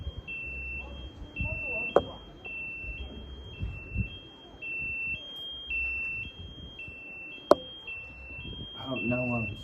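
A house alarm beeps steadily throughout in a repeating two-tone pattern, mid-loud and continuous, with people talking and a few sharp knocks underneath.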